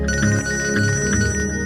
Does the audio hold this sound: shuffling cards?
no